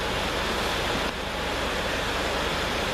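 The Wallowa River flows past the northern edge of a ranch, a steady, dense rush of water that holds at one level with no breaks or voices.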